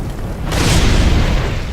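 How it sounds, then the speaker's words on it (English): A two-handed strong attack with a dragon weapon in Dark Souls sets off an explosion, a loud booming burst that blooms after a half-second lead-in and rumbles on, heavy in the low end. "if you hold it with 2 hands and then do a strong attack, they do some sort of like crazy explosion thing"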